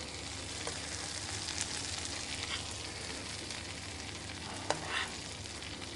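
Butter sizzles steadily in a pan as hapuku fish is basted, a constant close frying hiss with a few brief spoon clinks and spatters near the end.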